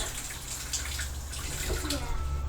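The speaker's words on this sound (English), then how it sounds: "I'll just dab my finger in a little bit of water" A fingertip dipped into a little water during a PVC Turkish war-bow build gives faint, close watery sounds over a steady background hiss.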